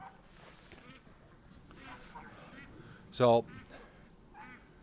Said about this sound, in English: this is a yard full of ducks